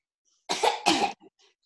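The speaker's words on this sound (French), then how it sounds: "tousser dans son coude. Comme ça." Two close, forceful coughs muffled into an elbow, back to back, followed by a short throat sound and faint breathy trailing noises.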